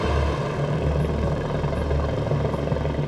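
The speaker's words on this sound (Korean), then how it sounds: "경찰 헬기는 굉음과 함께 강력한 서치라이트를 비추며 새벽까지 순회 비행을 지속합니다" A police helicopter on a late-night patrol flight roars steadily overhead, its low rotor thump continuous and loud throughout, with no voices.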